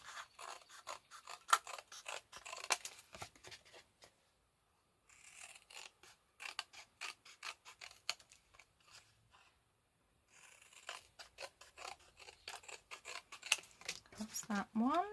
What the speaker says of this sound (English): these are the scissors that it gets used